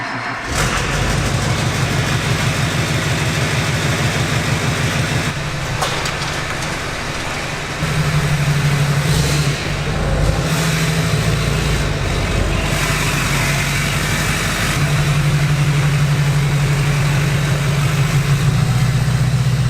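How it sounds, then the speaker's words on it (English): A truck engine turns over on a cold start in a pole building around 54 degrees, then settles into a steady, loud rumbling idle with a few surges in pitch, close and without talk. "That kind of somewhat qualifies for a cold start, right?"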